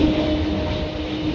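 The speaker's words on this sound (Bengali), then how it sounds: "পুরো 8টাতে আমাদের ট্রেন নামখানাতে ঢুকে গেছে" A train pulling into Namkhana station, a steady low rumble with a sustained mechanical hum, close and continuous through the short stretch, with no voices.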